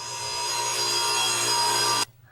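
A radial arm saw cutting wood for a flush drawer with rabbet joints, a steady loud whining buzz lasting about two seconds that stops abruptly.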